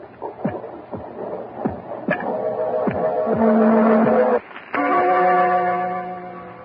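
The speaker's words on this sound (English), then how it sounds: "The beating of his telltale heart." A radio drama heartbeat sound effect: soft low thumps pulse at a steady beat, then give way to a droning, echoing tone that swells and briefly cuts out before returning.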